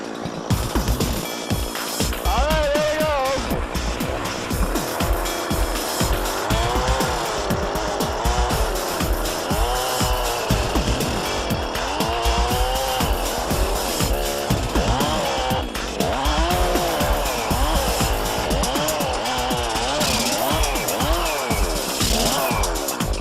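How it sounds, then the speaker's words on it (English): A chainsaw engine powering a Lewis MultiDrill revs loudly and continuously, rising and falling in pitch as the throttle is worked, running nonstop throughout. "let's see if we get the saw fired up here"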